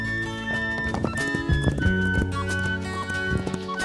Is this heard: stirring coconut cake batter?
no